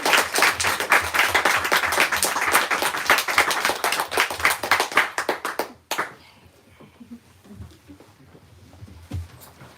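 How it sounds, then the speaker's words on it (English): At a bookstore author event, an audience claps loudly and densely for about six seconds, then the applause cuts off sharply, leaving quiet room tone with a few faint scattered sounds. "Let's give these two last one round of applause."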